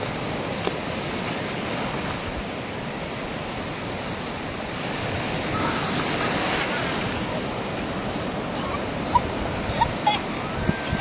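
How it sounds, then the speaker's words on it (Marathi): Sea waves break and wash up on the beach at Diveagar on the Konkan coast, a steady, broad roar with wind buffeting the microphone and a few faint clicks near the end. "आले आली लाट आली लाट आली"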